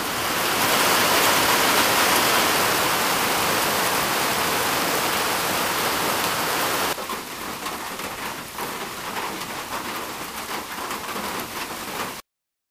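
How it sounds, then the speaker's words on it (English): Heavy rain on a hilltop shelter on the Appalachian Trail pours in a loud, continuous wash, easing slightly partway through but still drumming steadily until it cuts off at the end. "Raining."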